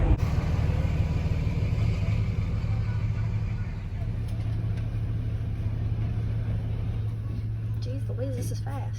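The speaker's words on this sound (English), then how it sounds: "I'm driving the van today" A van rolls along the road with a steady low engine rumble and road roar, constant and close throughout, while a person talks over it from inside the cab.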